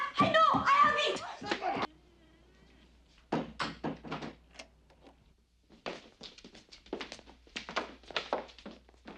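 Heavy thuds of a door being forced and broken down, a series of loud blunt blows and crashes following shouting and mixed with voices talking excitedly.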